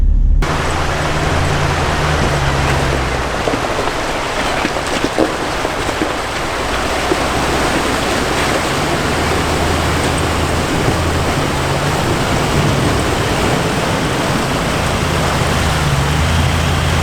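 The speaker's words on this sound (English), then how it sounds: "Steve is hosing down his trailer. He got a big pump and everything." A pump-driven hose sprays water over a trailer in a constant, loud, rain-like rush of water that holds steady the whole time, with no voices heard.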